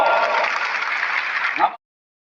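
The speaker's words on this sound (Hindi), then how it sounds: "ऐसे माननीय विष्णुदेव साहब के लिए जोरदार ताली बजाओ" Applause from an audience at a state cooperative conference in Chhattisgarh, a dense burst of clapping that rises slightly before cutting off abruptly after under two seconds.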